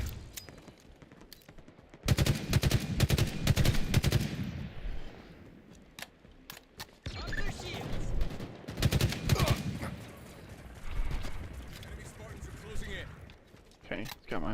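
Bursts of Halo gunfire crackle in a competitive match, coming in dense volleys around two seconds and again near nine, with quieter stretches between, while a voice talks over the action.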